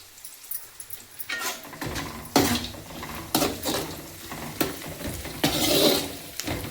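Curry leaves hitting hot oil with onions and chillies over a low flame while making poha chiwda, a steady sizzle broken by repeated loud scrapes and clanks of a spoon against the pan.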